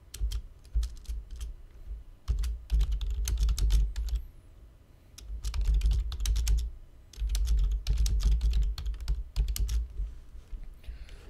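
A loud computer keyboard clacks in fast bursts of typing, separated by short pauses, close and clear with no talking.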